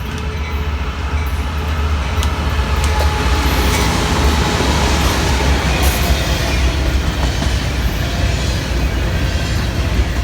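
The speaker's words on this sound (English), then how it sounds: "C710 is an international intermodal train that runs between Fairburn and Chatsworth for the Appalachian Regional Port" CSX C710, an intermodal freight train, rolls past close by with a loud, continuous rumble and rattle of wagons, with faint wheel squeal over the steady roar.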